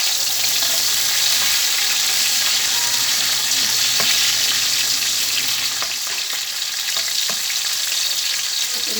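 Chopped onion and tomato sizzle steadily in a hot oiled pan for ginisang upo, a loud, constant frying hiss broken by a few clinks of stirring.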